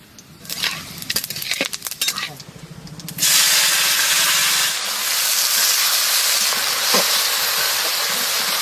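Bay leaves and cumin dropped into hot mustard oil in a kadai erupt into a loud, steady sizzle that starts abruptly after a few clattering knocks and keeps hissing strongly to the end.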